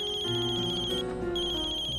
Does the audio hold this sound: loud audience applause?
no